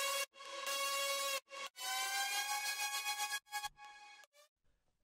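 Future trap drop with a bright sustained synth lead playing stacked harmonic chords, broken by short gaps that a reverb swell tail partly fills; loud and alone, thinning into sparse stabs toward the end.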